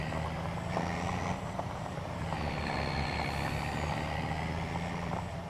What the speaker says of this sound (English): Still love the sound of this truck.